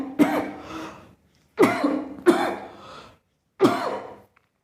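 A man coughs four times, harsh, close and loud, the first alone and the next two in quick succession, then a last cough after a short pause, with silence between them.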